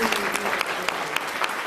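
Students and parents at a school story hour clapping in a steady round of applause, many hands close and fairly loud with distinct sharp claps, faint voices murmuring beneath.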